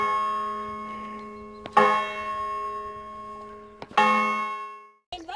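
A bell chime rings out in two sustained, ringing strikes with long decaying tones, fairly clear and close, followed by a brief clatter at the end.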